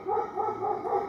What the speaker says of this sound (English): that's my next door neighbor's dog. He's a golden retriever.